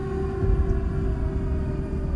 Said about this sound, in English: When the sirens start, we go to the basement.